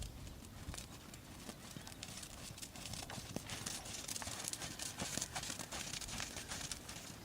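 A horse trotting during a sitting-trot riding lesson, steady rhythmic hoof clip-clop at close range, continuous and fairly loud, with faint ambient noise around it.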